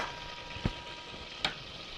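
Butter sizzles in a hot pan with a steady frying hiss, broken by two sharp scrapes of a whisk working it, close and without talk.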